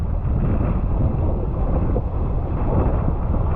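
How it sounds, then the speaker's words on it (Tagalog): Steady, rough wind buffeting at sea on a rainy fishing trip, a continuous low roar with gusty rumble across the microphone and no speech. "Dahil maalon at mahangin."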